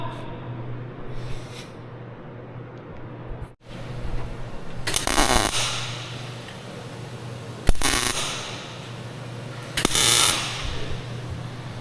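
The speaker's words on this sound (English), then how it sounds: "Bought a snap-on welder. It's a 350 muscle MIG, I think they call it." Several short bursts of crackling, hissing MIG welding tacks from a Snap-on 350 Muscle MIG welder, each lasting about a second, separated by quieter stretches over a low electrical hum.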